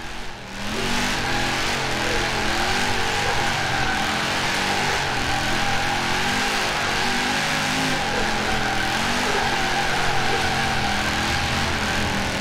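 An Audi RS4 drifts in the racing game Forza Horizon 4, its engine droning loud and continuous with wavering revs and a tire squeal laid over it. The sound stays dense and steady from start to finish.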